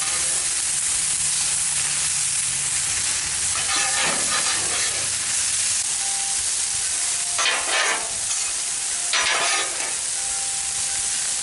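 Stir-fry noodles sizzle loudly and steadily on a Blackstone griddle at a Mongolian grill cook, with a few bursts of scraping and stirring cutting through the constant hiss.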